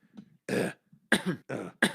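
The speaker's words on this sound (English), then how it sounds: "The cough is so frustrating" A person coughs and clears their throat in several short, close bursts, one separate hack followed by three quick rough coughs with brief pauses between.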